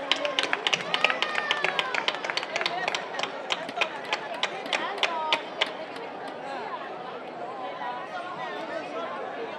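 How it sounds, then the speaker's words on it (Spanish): Applause from a crowd at a youth futsal awards ceremony during the San Paulino festival verbena, a dense burst of clapping that gradually fades into murmuring chatter. "Fuerte aplauso."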